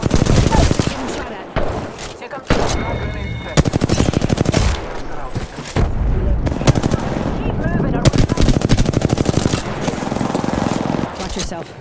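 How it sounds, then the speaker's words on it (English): Gunfire in Apex Legends: loud rapid bursts of automatic weapon fire in repeated volleys with brief gaps, some single shots and reload clicks, close and dominant throughout, with a player speaking in between. "Getting shot at."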